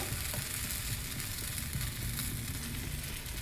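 Thick batter sizzling on a tava over a medium flame, a steady, close crackling fry that continues unbroken throughout.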